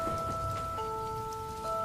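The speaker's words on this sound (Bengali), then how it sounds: "মুষলধারে বৃষ্টি শুরু হয়।" Heavy rain pours down in a steady, dense wash beneath sustained musical tones, with no voices.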